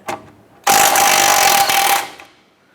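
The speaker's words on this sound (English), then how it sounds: "Using a 19mm socket, let's go ahead and loosen the nut on our outer tie rod." A loud, steady mechanical whir from a power tool with a 19mm socket loosening an outer tie rod nut on a 2008-2012 Honda Accord runs for over a second, then cuts off, preceded by a brief faint click.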